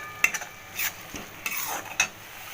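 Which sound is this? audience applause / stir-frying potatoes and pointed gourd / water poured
stir-frying potatoes and pointed gourd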